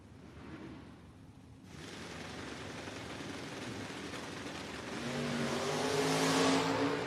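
A 1968 Camaro and a 1994 Firebird drag racing at a no-box shootout, with a low idle and rumble before a sudden roar of engines that builds into a loud, rising rev as the cars launch and accelerate.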